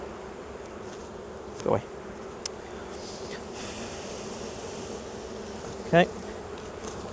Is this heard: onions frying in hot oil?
no